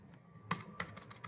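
Computer keyboard keys are tapped quietly at close range, a short burst of a few distinct clicks in quick uneven succession.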